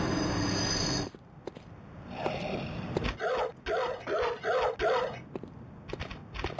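An enemy dog in the game Bloodborne lets out a rapid run of short, sharp barks and yips, clear and fairly close after a quieter lead-in.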